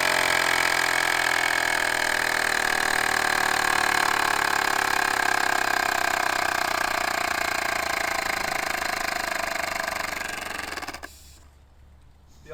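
Small air-powered model plane engine test-run at 40 psi from a bike pump, giving a steady, close, high-pitched whirring buzz for about ten seconds that then winds down and stops, leaving near silence.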